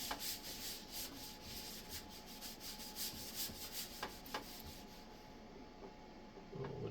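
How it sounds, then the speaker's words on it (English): Steady, fairly quiet rubbing and scraping on the metal of a Dell Optiplex 7050 computer, a continuous gritty rasp with rhythmic strokes and no talking. "I'm just scraping the metal."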